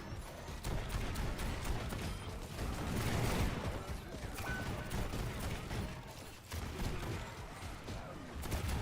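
Continuous rapid gunfire from the hero shooter Overwatch, a steady rattle of shots with mechanical clicks behind it, dense and loud throughout.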